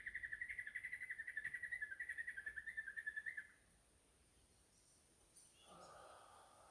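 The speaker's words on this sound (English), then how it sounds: "That bird just now was almost mimicking the tremors" A wild bird sings outdoors in a steady, rapid run of repeated chirping notes for a few seconds, then stops, leaving quiet ambient background with a faint rustle near the end.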